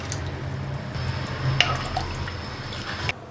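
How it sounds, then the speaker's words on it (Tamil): Water is poured into a pot of rasam on the stove, a soft steady trickle and splash running for about three seconds and then stopping, close by and fairly quiet, with no talking. "ரசத்துக்கு தேவையான அளவுக்கு தண்ணி ஊற்றிக்கலாம்."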